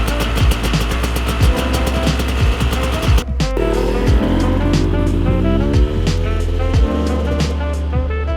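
A Yamaha YZ250 two-stroke dirt bike engine idling and revving during break-in, loud and close, with a sharp buzzing drone that rises and falls steadily throughout.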